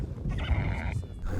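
A Mongolian horse's loud, close whinny rises and trembles for about a second over low rumbling hoof and ground noise, alone with no talk.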